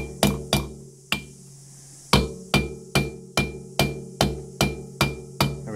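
Sharp metallic hammer taps ring out one after another as parts are tapped into a Yamaha Viking cylinder head, about a dozen strikes at a steady pace with a brief pause early on, close and loud.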